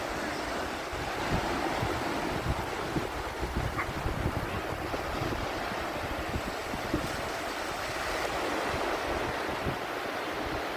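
Sea waves wash and break steadily on a beach, a constant rushing surf with light wind over it.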